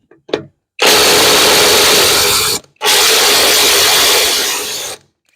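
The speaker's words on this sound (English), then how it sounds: "I'm just using the old battery impacts today because I'm not gonna drag the air cord out here" Battery impact wrench working on the front end of a Farmall M tractor, two loud close bursts of steady buzzing hammering, the first about two seconds and the second about two, separated by a short pause.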